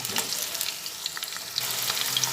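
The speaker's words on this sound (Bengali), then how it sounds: "আলুগুলো দিয়ে দিয়েছি এরপর এক এক করে আলুগুলো ভেজে নিচ্ছি" Potatoes frying in oil in a pan for a pointed gourd and potato curry, giving a steady close sizzle with scattered crackles and pops that grows slightly louder toward the end.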